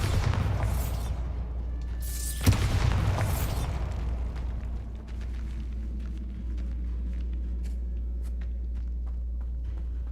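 Bombarda spell explosion in Hogwarts Legacy: a loud, deep booming blast with a sharp crack at about two and a half seconds, fading into a steady low rumble and scattered small crackles.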